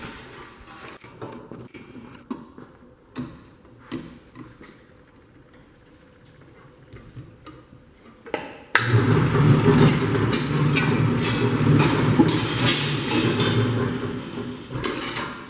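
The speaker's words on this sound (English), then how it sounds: "And here we have a circle cutter." A sheet-metal circle cutter in a metal shop slices out a disc for spinning funnels: quiet shop ambience with scattered ticks, then a loud, steady grinding, rasping machine run that holds to the end.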